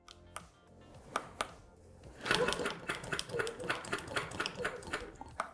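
A longarm quilting machine sews through a patchwork quilt: a few scattered clicks first, then a close, steady run of rapid, evenly spaced stitches.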